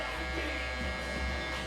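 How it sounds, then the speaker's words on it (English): An electric shaver buzzes steadily and close up as it glides lightly over a man's head during a mid fade haircut, a continuous even drone with slight changes in pitch as it moves. "I'm putting my shaver very light on his head."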